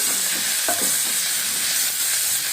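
Coriander frying in hot oil for toor dal rasam, a loud, dense, even sizzle close up, with a brief spoon-stirring scrape early on and no talk.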